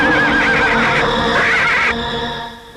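A horse whinnies loudly and close in a film scene about a woman bandit riding in on horseback, its wavering neigh running over a dense music bed before fading out.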